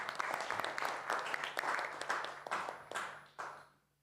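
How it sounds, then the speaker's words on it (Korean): Church congregation at a young adult worship service claps in thanks and praise to God, steady applause for several seconds with a few sharp claps trailing off to silence at the end. "우리 찬양 받으시기 합당하신 하나님께 감사와 영광의 박수 올리겠습니다"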